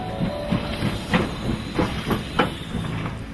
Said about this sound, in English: the steam locomotive had a universal appeal which crossed all boundaries of age